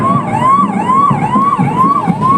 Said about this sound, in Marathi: सामान्य रुग्णालयाची रुग्णवाहिका काम करते